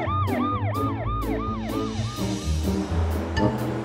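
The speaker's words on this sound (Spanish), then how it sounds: "¡Transfórmate en un camión de bomberos!" A cartoon fire truck siren wails in fast, repeated rising and falling sweeps, loud and close over a low rumbling engine, then breaks off near the end.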